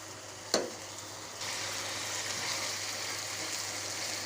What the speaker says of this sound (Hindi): चिकन हमारा अच्छी तरह फ्राई हो गया है, मसाला भी अच्छी तरह भुन गया है।